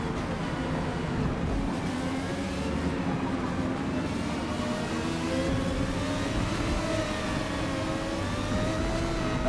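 Ferrari V12 racing car in the video game Forza Motorsport, engine droning steadily at high revs with rising and falling pitch as gears change, loud and continuous with no pauses.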